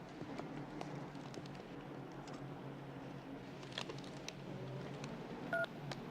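Telephone auto-dialer tones play under steady room noise, with a short burst of distinct dialing beeps near the end.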